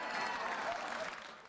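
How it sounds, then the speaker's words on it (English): A show audience applauds the returning guests at the end of the program, a dense burst of clapping that holds steady and then thins out, with some talk mixed in. "Let's bring back our guests, and we'll applaud them."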